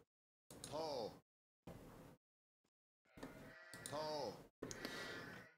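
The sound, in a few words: sheep bleating in the video game Age of Empires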